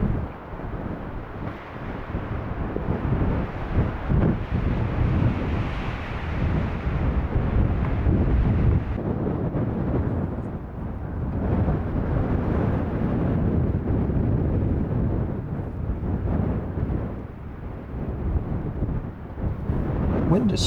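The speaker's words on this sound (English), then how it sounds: "Wind is so crazy today." Strong blizzard wind roars steadily against a parked camper van in a snowstorm, a continuous loud rumbling buffet with gusty swells that never lets up.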